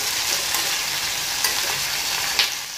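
Ice apple curry fries in a pan, giving a steady, fairly loud sizzle with brief spatula scrapes and clinks as it is stirred, and no talking.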